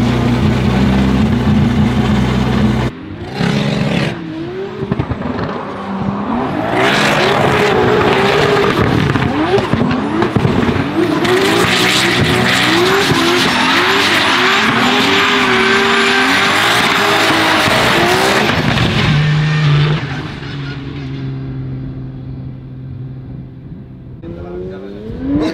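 A car drives off on a test drive with its tires squealing and its engine revving loudly and close by. The screeching rises and falls repeatedly while people talk over it.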